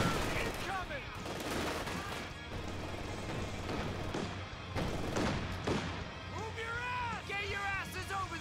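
Bursts of machine gun and rifle fire echo through a Company of Heroes 2 multiplayer battle, rapid rattling volleys mixed with dull thuds and impacts, fairly faint overall, with voices chattering in-game near the end.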